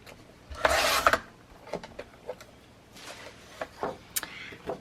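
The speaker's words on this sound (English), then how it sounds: "So I'm just going to trim them all off at one time." Short paper tabs trimmed off pages all at once, a loud dense rasping snip burst near the start followed by scattered lighter cutting clicks and rustles, close up with no talking.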